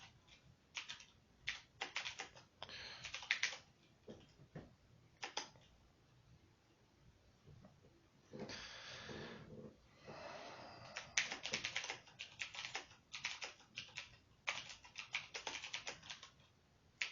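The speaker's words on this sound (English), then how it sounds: "I'm gonna fucking type that out." Typing on a computer keyboard, with quick clattering bursts of keystrokes separated by pauses, close and fairly quiet, and no voices.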